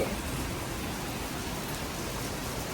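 Rain falls steadily on a garden in Germany, an even, continuous hiss with no voices.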